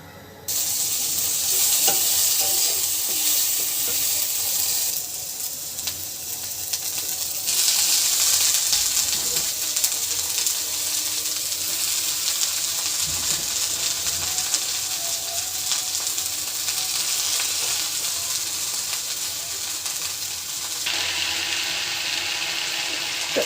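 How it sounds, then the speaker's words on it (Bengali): Finely shredded, washed potatoes frying in a pan for a soft Bengali aloo bhaji, giving a steady broad sizzle with occasional stirring and scraping, fairly loud and continuous throughout with no talking. "এবার আমি আলুটা ভাজি করব"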